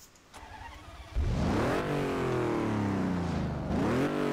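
An Aston Martin in Test Drive Unlimited 2 starts up and revs, its engine note climbing sharply and then holding a loud, close, steady drone before rising again at the end.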